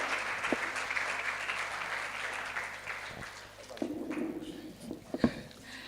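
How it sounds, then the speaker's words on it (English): Audience applause at a leadership conference in Calabar, a steady wash of clapping that fades slightly, then swells again with a few sharper claps near the end. "I believe that deserves a better round of applause."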